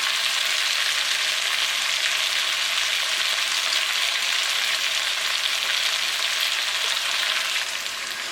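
Steady, loud sizzling and hissing as chicken broth is poured into a hot pot for butternut squash soup, a continuous frying roar with no breaks and no voices.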